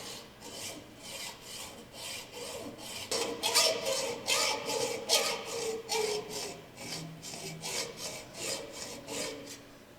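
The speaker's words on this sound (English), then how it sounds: "We're going to use a hacksaw because that's what hacks do." Hacksaw cutting through a heavy machined engine-block metal part, steady back-and-forth rasping strokes about twice a second, close and fairly loud, growing stronger partway through.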